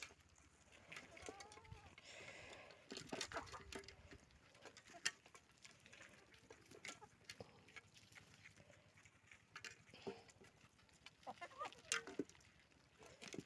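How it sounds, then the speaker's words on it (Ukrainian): Two large roosters and chickens clucking at a distance, scattered calls over a quiet Ukrainian farmyard background with ducks, occasional soft patter and faint voices. "На два півні такі гарні, великі."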